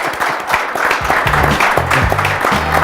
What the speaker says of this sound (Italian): E può scattare anche l'applauso